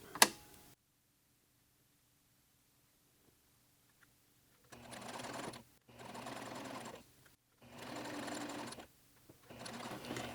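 A sewing machine stitches a seam on a muslin bodice, running in four separate bursts of rapid, even whirring, each a second or two long with short pauses between, after a long quiet stretch at the start.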